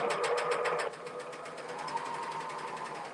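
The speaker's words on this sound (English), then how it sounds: "So I'm just going to line this up on the second line and sew." A serger sewing machine stitches fabric along a guide line, running in a fast, steady whir that drops to a softer, slower hum partway through, close and loud with no talk.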